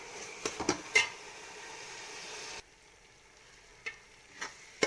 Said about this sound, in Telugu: కరెక్ట్గా ఈ పావు కేజీ టమాటాలు బాగా ఎర్రగా వేగాలండి